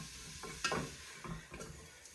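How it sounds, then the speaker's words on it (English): Spice blend cooking in a hot pan for a beef curry, a low steady sizzle with a few brief stirring scrapes, fairly quiet and close, no talk. "a couple of tablespoons of my spice blend, and I will just cook it for a minute"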